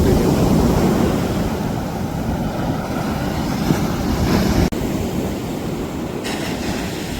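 Steady roar of sea surf at Puthuvypin beach under cloudy, rain-threatening skies, a broad continuous wash of breaking waves with gusty wind on the microphone and a brief drop near the end.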